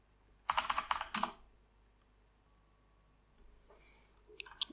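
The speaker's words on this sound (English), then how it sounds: "and type yes for installing" Quick burst of typing on a computer keyboard while entering a terminal command on a Fedora 37 workstation, a dense clatter of keystrokes followed by a pause and a few more scattered taps.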